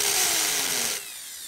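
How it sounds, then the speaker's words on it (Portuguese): An electric drill whines as it bores into a Hot Wheels die-cast toy car, a loud, steady grinding whir that cuts off abruptly partway through, leaving a thinner high tone. "Firma bem tanto a miniatura quanto a furadeira"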